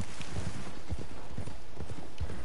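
Horse hooves clip-clop in Red Dead Redemption 2 as a horse is ridden, a steady loping rhythm of soft thuds over a constant wash of game ambience, close and moderately loud.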